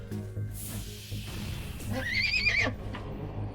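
A horse neighs in the FTL Multiverse space strategy game, a loud, fairly close whinny with a rising and falling pitch lasting under a second, set against steady game ambience and music.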